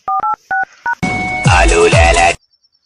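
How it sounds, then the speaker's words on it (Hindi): Four quick dual-tone keypad beeps as a number is dialed, followed by a burst of louder, noisier tones before falling silent. "अब तो एक ही सहारा है, सीआईडी को फोन मिलाना।"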